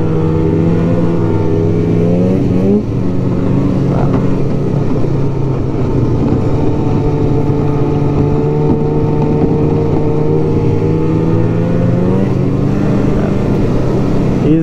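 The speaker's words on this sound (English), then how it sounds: "it's just a proven Fuji engine" A 1999 Polaris Indy Classic 500 touring snowmobile with a Fuji engine runs at a steady, close, loud drone with a slight rise in pitch, and wind rushes over it throughout.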